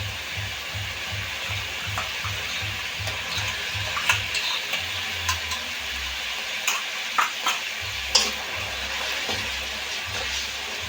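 Mustard paste and green chili paste fry in hot oil and spices in a pan for a pabda fish curry, with a steady sizzle and repeated scraping stirs and clinks from a close spatula, and no talk.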